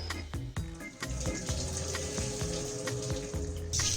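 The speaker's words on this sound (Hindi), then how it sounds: "जो यहाँ पर एक्सेस वाटर है उसे हमें स्ट्रेन कर देना है।" Boiled Maggi noodles are drained of excess water, a steady pouring, splashing stream into a sink that runs continuously at close range, with a few brief clinks at the start.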